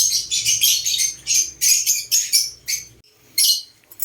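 Small birds chirp and tweet in quick, bright bursts close by, with short gaps between the trills.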